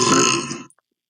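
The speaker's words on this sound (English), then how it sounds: "my buddies are having a burp contest back here" One long, loud, close burp from a burp contest, rumbling for about half a second before cutting off into silence.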